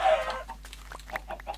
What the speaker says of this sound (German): Ich habe jetzt schon 40 Hühner.